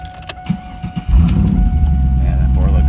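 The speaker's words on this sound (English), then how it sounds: "that Borla exhaust sounds so nice" A 2002 Chevrolet Camaro SS 35th Anniversary convertible with a Borla exhaust fires up after a few clicks and settles into a loud, deep, rumbling idle close by.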